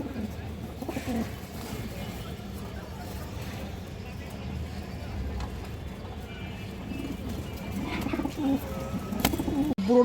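Pigeons coo nearby, soft repeated calls rising and falling, while someone talks over them almost the whole time.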